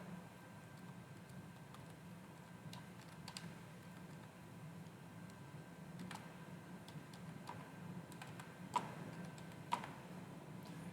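Someone types on a computer keyboard while building a website, faint scattered key clicks at an uneven pace over a quiet room hum, with a couple of sharper taps near the end.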